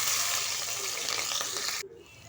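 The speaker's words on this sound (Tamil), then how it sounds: "இதில் நம்ம வெட்டி வச்ச பச்சை மிளகாய் போட்டுக்கலாம்" Chopped green chillies frying in oil for rice upma make a loud, close hiss and crackle that suddenly drops off near the end, with speech mixed in.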